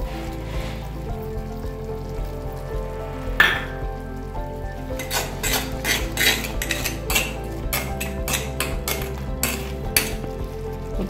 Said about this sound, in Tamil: வெல்லம் கலந்துக்கலாம்.